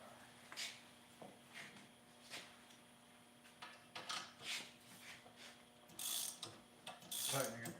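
Ratchet clicking in short bursts while tightening parts during a budget LS engine head rebuild, close and fairly quiet, with brief pauses between strokes.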